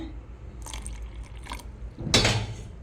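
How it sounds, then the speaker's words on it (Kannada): Brief liquid sounds and soft clinks, then a short, louder splash of milk being poured into a mixer jar of ground pumpkin and carrot. "ಈಗ ಸ್ವಲ್ಪ ಹಾಲು ಹಾಕ್ಕೊಳ್ತೇನೆ"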